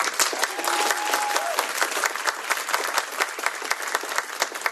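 A crowd applauds at a Juneteenth celebration event in Washington State, dense sustained clapping with individual sharp claps standing out, moderately near and continuous throughout.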